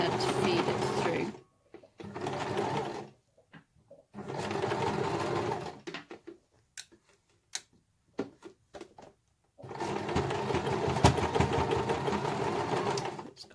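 A sewing machine stitches through thick fabric with darts and seams, running in several bursts of rapid mechanical whirring separated by pauses with small clicks and handling noises.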